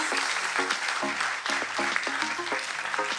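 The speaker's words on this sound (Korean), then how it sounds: "박수 보내주세요" Applause from an audience at a film event, steady clapping throughout with a recurring tonal pattern mixed in, fairly faint overall.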